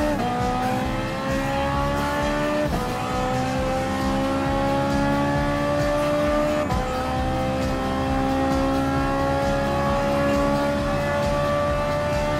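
Race cars close in to overtake a Volkswagen Scirocco in the Gran Turismo Sport video game. Several engines whine loudly and continuously, their pitches rising and shifting together with brief gear-change dips.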